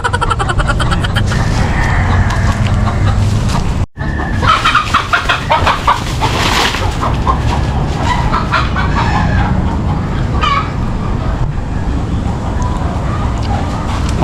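Chickens in a rural yard cluck loudly and close throughout, with occasional crowing-like calls, a dog nearby and brief human voices mixed in over steady outdoor background noise.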